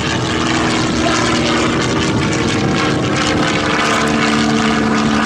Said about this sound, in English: Just like a PT-19, only it has the radial engine on board.